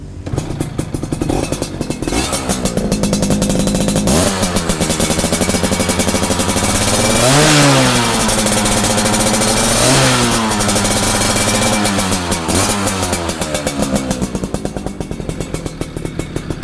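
A motorcycle engine idles, then is revved repeatedly, climbing to a loud high-pitched peak and falling back several times, close up and alone with no talk over it.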